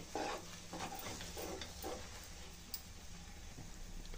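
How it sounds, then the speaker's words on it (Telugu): Besan halwa being stirred in a pan, soft scraping strokes repeating every half second or so with a faint sizzle beneath, close and quiet, no voices. "ఇలా కలుపుకుంటూనే కుక్ చేసుకోవాలండి ఈ హల్వాని అయితే"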